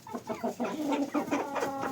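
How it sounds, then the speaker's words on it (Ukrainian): Chickens and a large white rooster clucking close by while feeding on the ground, with steady overlapping clucks and soft calls throughout and no talk. "Цей білий півень найбільший, але самий дурний."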